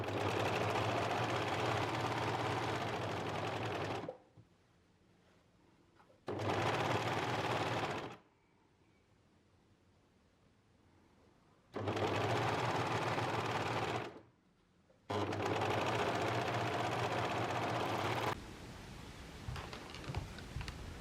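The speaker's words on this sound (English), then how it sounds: "With the pocket bag facing up, overlock the side seam." An overlocker serges the side seam of a pocket bag in several steady, close bursts of whirring stitching, separated by short pauses of near silence.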